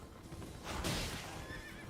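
A horse in the video game Elden Ring gives a short, faint whinny over soft hoofbeats and a quiet game background, with no voices.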